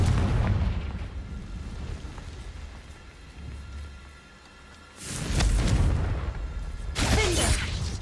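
The Confringo blasting spell goes off in Hogwarts Legacy as two loud, rumbling bursts, the first about two-thirds of the way in and the second near the end, each rising sharply over a low, rain-like background hiss.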